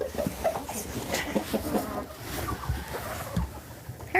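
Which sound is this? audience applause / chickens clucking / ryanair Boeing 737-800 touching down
chickens clucking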